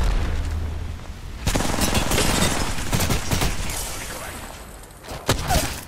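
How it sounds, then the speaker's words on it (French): Rifle fire in the shooter game Apex Legends, rapid bursts of gunshots and booms crackling loudly across the clip, with a player's voice talking over the action. "Oh, il s'est pris un petit coup de fusil triple"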